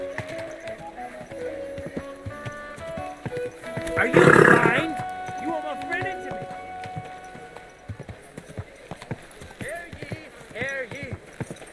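Horse hooves clip-clopping in Kingdom Come: Deliverance II, a steady trotting rhythm on a medieval town street, with a brief loud burst of activity partway through and someone shouting over it amid background music.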